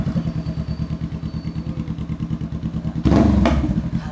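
A Honda Rebel 500 motorcycle idles with a loud aftermarket muffler, giving a steady, close, pulsing low thump that jumps into a sharp, louder rev toward the end.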